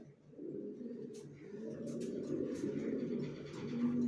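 Pied racer pigeons coo steadily and close by in a low, throaty, continuous murmur, with faint higher chirps above and a little background noise.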